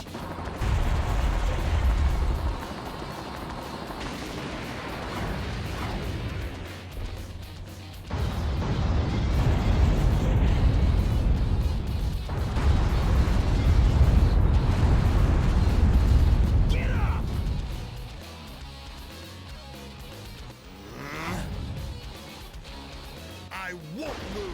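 Missile punches from the mech suit in the video game Metal Wolf Chaos set off heavy booming explosions. They come in long, loud, rumbling bursts with short gaps between them, and a voice speaks over parts of them.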